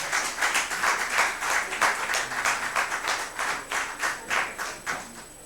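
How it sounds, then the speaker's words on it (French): An audience at a living-arts festival event in Côte d'Ivoire claps in a steady, moderately loud burst of applause with regular pulses, no voices over it. "On va l'applaudir très fort."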